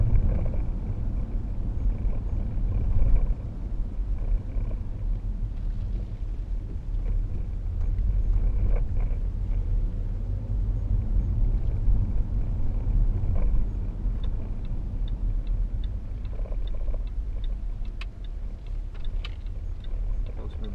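A 2012 Range Rover Sport 3.0 SD V6 pulls away with a steady, deep engine rumble mixed with wind buffeting. The sound holds fairly even for about twenty seconds with no clear peaks.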